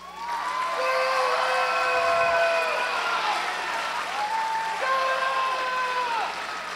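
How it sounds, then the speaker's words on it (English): A homecoming crowd applauds and cheers for senior captain Ben Davis, a steady spread of clapping under loud whistle-like tones and crowd noise that holds throughout. "give a round of applause to senior captain Ben Davis"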